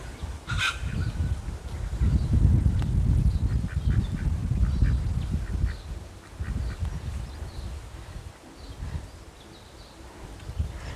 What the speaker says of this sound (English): the ducks are just coming up. Here they come.